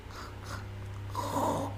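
A voice imitates an ineffective, strained, throat-pulling cough: a brief raspy, snort-like hack, close to the mic, with a short rougher burst at the end.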